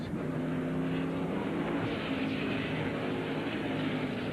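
Race car engine held flat out in fourth gear at Watkins Glen during the 2003 Sirius Satellite Radio race, a steady sustained drone with no lift, heard from a distance.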